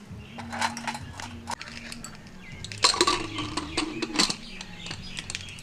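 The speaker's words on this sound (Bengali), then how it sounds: "প্রেসার কুকারের ঢাকনাটা লাগিয়ে দিলাম" Metal clinks and clanks as a lid is fitted onto a pressure cooker in a home kitchen, a few close, bright knocks and scrapes with a quieter rattling pause between them.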